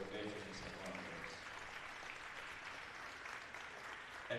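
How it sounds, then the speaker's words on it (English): Crowd applause at a college women's basketball game in an arena, honoring veterans; sustained, moderately faint clapping and cheering with a low murmur of voices underneath. "please join us in a loud round of applause to respect our deepest gratitude for the veterans and veterans"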